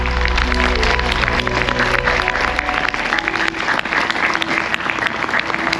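An audience gives loud, continuous applause to open the ceremonies at a 2023 Lemoyne family celebration in Longueuil. The dense clapping holds steady throughout.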